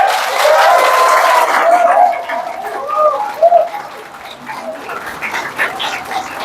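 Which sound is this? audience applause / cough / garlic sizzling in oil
audience applause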